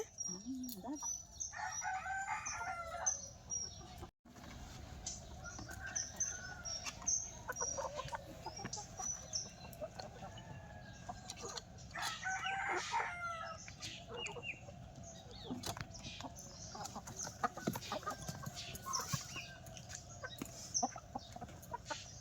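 Chickens cluck and a rooster crows in a village yard, the calls coming in scattered bursts at middle distance over steady background noise, with occasional faint voices.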